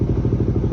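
Motorcycle fitted with a WRX Silent Series exhaust and an Aracer RC Mini X ECU tuned for rumble idle, giving a loud, close, steady lumpy idle with rhythmic pulsing pops.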